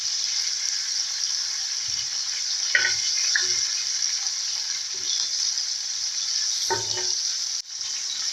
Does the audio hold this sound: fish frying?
yes